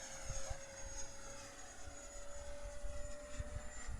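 A T-45 jet aircraft flies at about three-quarter throttle, giving a steady whining engine tone over a rough, rumbling roar that surges slightly as it passes, with no voices.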